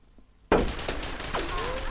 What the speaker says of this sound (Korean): 총소리 이 앞에서 나는데?